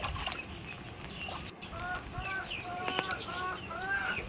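Ducklings and chicks on a farm, kept warm on a rainy day, give repeated high thin peeping calls in quick bursts, fairly close, over a low background rumble.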